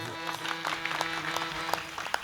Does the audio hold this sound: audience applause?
yes